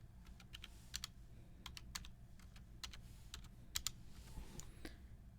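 Quiet keystrokes on a computer keyboard while a password is entered, a loose run of soft clicks spread across several seconds over a low steady background hum.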